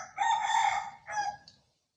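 A rooster crows at a wildlife conservation area, one long call followed by a shorter tail, fairly close and clear with no talk over it.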